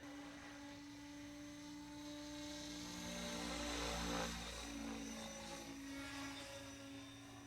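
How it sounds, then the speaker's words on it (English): A small model helicopter whirs steadily with a high-pitched motor whine and rotor buzz, swelling a little louder midway as it passes closer. "This is like my third or fourth flight on this helicopter"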